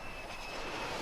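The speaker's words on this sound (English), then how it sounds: "that is the new F-35 fighter jet making its first landing on the USS Nimitz" An F-35 fighter jet lands on the deck of the aircraft carrier USS Nimitz, its loud, steady jet engine roar filling the whole short moment, with no voices.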